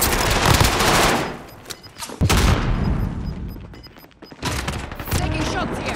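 Heavy gunfire in Call of Duty: Modern Warfare, loud sustained automatic bursts with booming impacts that ease off into a brief lull, then resume, with faint voices underneath.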